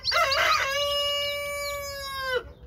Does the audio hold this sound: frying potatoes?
no